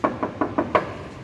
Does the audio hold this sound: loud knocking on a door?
yes